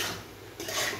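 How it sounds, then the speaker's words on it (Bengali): A spoon scrapes and stirs fried okra in a pan as it is sautéed with egg, giving a close, steady metallic rasp with a brief louder swish near the end and no voices. "ঢেঁড়সটা ভেজে আমি এর সঙ্গে ভালো করে কষে নেব।"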